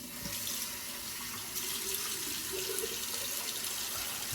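A tap pours a steady stream of water into shaving soap lather, a close, continuous gushing and splashing sound that runs throughout with no voices.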